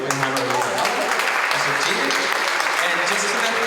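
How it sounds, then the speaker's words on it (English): A round of applause for the hula group Ka Lei Mokihana at a proclamation ceremony: dense, sustained clapping from a crowd, loud and even throughout, with some voices mixed in. "how's about a round of applause for Ka Lei Mokihana?"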